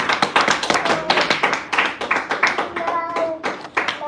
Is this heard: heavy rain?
no